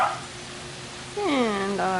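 A pet dog gives a short whining, whimpering vocalisation with rising and falling pitch in a kitchen at home, coming in two close bursts after quiet background.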